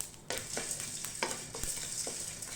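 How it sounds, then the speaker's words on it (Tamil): Coriander seeds, black pepper, cumin, fennel and curry leaves dry roasting in a pan with a little oil, giving a steady close sizzle broken by scraping stirs and scattered crackles. "ட்ரை ரோஸ்ட் பண்ணுறதுக்காக மல்லி மிளகு சீரகம் சோம்பு எடுத்துருக்குறேன் இதை வந்து கொஞ்சம் வறுத்து எடுத்துட்டு"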